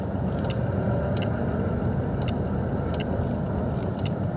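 Tata Tiago CNG car reversing out of a residential society, a steady low engine and road rumble heard from close by with faint ticking above, no talking.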